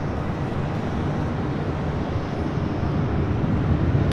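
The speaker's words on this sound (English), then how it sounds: "there he is, the A380 with Asiana heading back to Seoul" An Asiana Airbus A380 airliner at LAX produces a steady, distant broadband roar that slowly builds in loudness, heard alone without talk.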